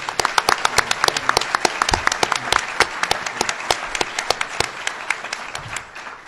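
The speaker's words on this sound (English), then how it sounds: "let's give him a round of applause" A crowd applauding at a governor's project announcement, dense rapid clapping that holds steady for several seconds before thinning slightly at the end.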